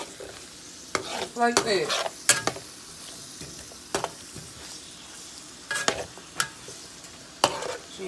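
Pork neck bones fry and brown in a pan, a soft, steady sizzle broken by occasional sharp clatters of a utensil against the pan, with a brief spoken remark.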